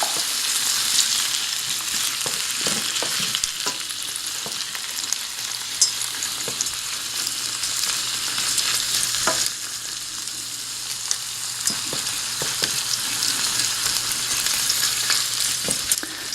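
Shrimp sizzle steadily in hot canola oil in a pan over medium-high heat, a loud continuous hiss with occasional pops and stirring clicks and no voices.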